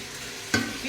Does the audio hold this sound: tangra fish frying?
yes